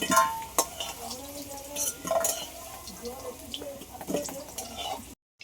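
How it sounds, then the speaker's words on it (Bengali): Potatoes fry in a pan with a soft sizzle, broken by the scrape and clink of a stirring utensil. A voice talks quietly over the cooking. "আলুগুলো একটু ভালো করে লাল লাল করে ভেজে নিচ্ছি"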